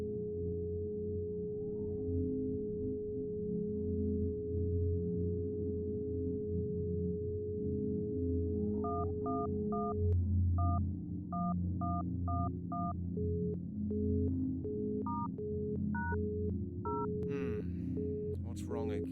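Telephone keypad tones from the Mystery of the Druids video game: a steady dial tone, then a run of short evenly spaced beeps and a few scattered later presses over low background music, with no talking.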